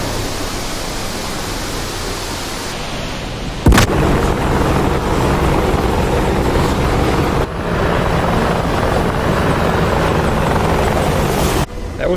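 An AH-64 Apache helicopter in a naval battle video game roars loudly and continuously as dense rotor and engine noise, broken by a few sharp impact bursts.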